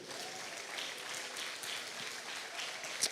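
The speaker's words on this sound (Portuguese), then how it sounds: "Vamos aplaudir o Senhor" A church congregation at a Wednesday evangelical service applauds in praise, a steady wash of clapping heard from some distance and fairly faint throughout.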